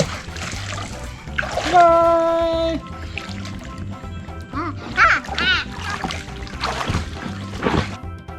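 Water splashing in a 4-metre inflatable pool, with irregular splashes and sloshing mixed with playful voices and squeals, a bright tonal whistle or squeak partway through.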